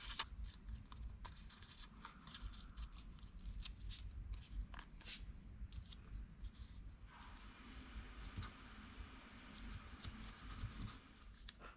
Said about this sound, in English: For this image, I'm also drawing and cutting a lighthouse for the seascape.